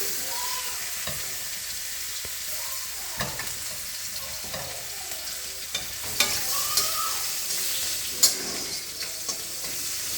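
Bay leaves and chopped onion fry in hot oil as the base for a tilapia curry, giving a soft, steady sizzle throughout with a few faint clicks of stirring.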